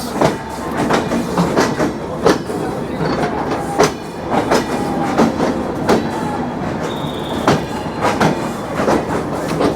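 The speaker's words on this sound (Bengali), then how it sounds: "আমাদের ট্রেন ছেড়ে দিয়েছে যশোর জংশন রেলওয়ে স্টেশন থেকে" The Rupsha Bangla Express pulls out of Jessore Junction railway station in Bangladesh with a loud, continuous rumble heard from inside the carriage. Regular clickety-clack wheel beats run through it, along with brief squeals.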